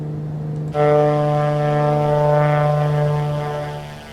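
Twin propeller engines of a Black Square Grand Duke in Microsoft Flight Simulator drone steadily, rising sharply in level as power is added and holding a loud, even harmonic hum throughout.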